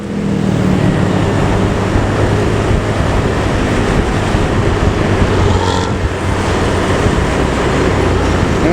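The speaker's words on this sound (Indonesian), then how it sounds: "dengan raungan knalpot ngorok dan klakson trompet kapal" Roaring bus engine with a loud modified exhaust on a busy road, a steady dense rumble throughout, passing along the Pantura coastal highway; no distinct horn blast stands out.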